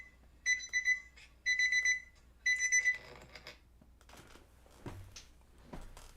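A door alarm sounds three bursts of rapid high-pitched beeping in quick succession, followed by quieter rustling and soft thuds.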